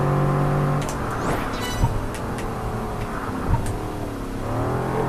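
A racing car engine in Project Gotham Racing 4 revs and climbs through gears, a loud continuous harmonic whine with a couple of brief shift dips and rises, no voices over it.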